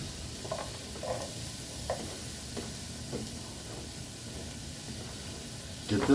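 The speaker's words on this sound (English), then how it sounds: "I'm letting my oil heat up in this pot. Now I'm going to take first my onions, put them in." Onions frying in hot oil in a pot, a soft steady sizzle with occasional stirring clatters and a louder disturbance at the end, with faint talk in the background.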